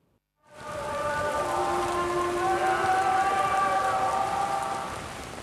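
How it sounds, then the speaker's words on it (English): Steady monsoon rain pours in Burma, a dense even hiss that swells in after a moment and holds loud and close throughout, with no voices. "The monsoon rain should be clearing now."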